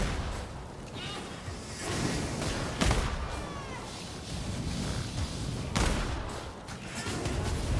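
Video game gunfire from Warhammer: Vermintide 2, with sharp bursts of shots against a rat-man enemy amid a busy, noisy combat mix, a few louder cracks standing out.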